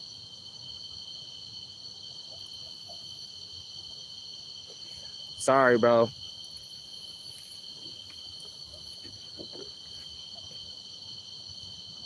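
Steady crickets chirping through a quiet night at a catfishing spot, a continuous high trill throughout, briefly interrupted by a short burst of nearby noise and a few spoken words.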